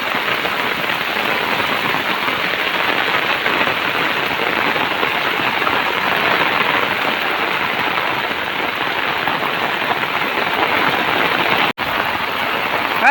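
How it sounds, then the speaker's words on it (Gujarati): Heavy rain falls steadily over a flooded village, a continuous close hiss of downpour that holds evenly throughout, with one brief dropout near the end and no talking. "ને હજી તો વરસાદ ચાલુ જ છે"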